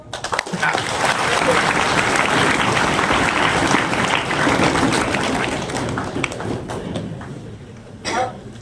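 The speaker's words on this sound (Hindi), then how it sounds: "ताली बजाओ।" Students clapping at a junior programming club session. The applause swells quickly and holds for several seconds before thinning out, with a cough and a sharp tap near the end.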